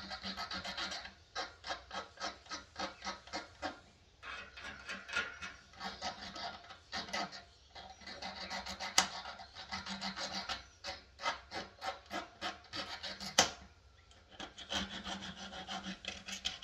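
Spacers for a 3.5-inch hard drive mount being cut to length by hand with a saw, a steady run of quick rasping back-and-forth strokes in bursts with short pauses, fairly close and quiet, no talk.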